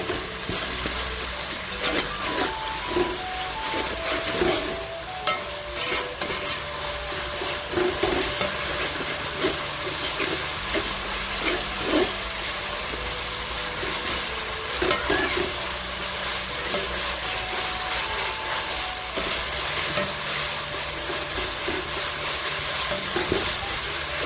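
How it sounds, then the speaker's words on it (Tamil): Ginger and garlic sauté and sizzle steadily in a hot pan for banana flower biryani, with repeated stirring scrapes and light utensil knocks, close and continuous with no talking. "இஞ்சி பூண்டு சேர்த்து பச்சை வாசனை வதக்கலாம்."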